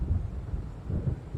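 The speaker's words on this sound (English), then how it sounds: "It seems there's a storm coming." Low rumbling wind and distant thunder of an approaching storm over open water in Alan Wake, a steady muffled roar with no voices.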